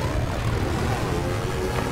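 A propeller-style aircraft flying in a video game, a steady droning engine hum that holds level for the whole stretch, close and continuous with no talk over it.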